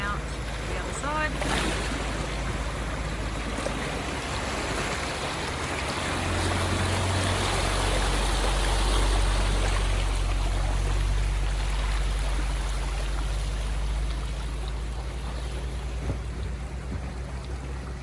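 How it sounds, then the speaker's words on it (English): Land Rover Defender 110 fording a river: steady, dense rush and churn of water with a low engine rumble beneath, continuous and fairly loud throughout, swelling slightly in the middle. "Here comes Shaun down the river, ready to come out the other side."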